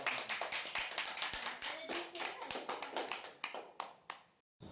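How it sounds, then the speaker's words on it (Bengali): Small group of children clapping at a birthday party, a rapid run of crisp handclaps close by that slows near the end, cuts briefly to silence, then resumes with a few claps. "হাততালি দাও হাততালি দাও হাততালি দাও"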